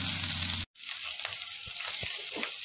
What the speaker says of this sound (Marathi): तेल घेतलेलं आहे, राई, जिरा, लसूण